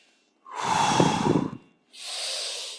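One long, audible breath out during a stretching exercise, then a brief pause and a second, softer airy breath, close and alone.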